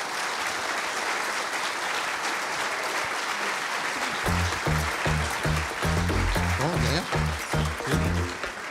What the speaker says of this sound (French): on peut applaudir Guillaume et Jules, s'il vous plaît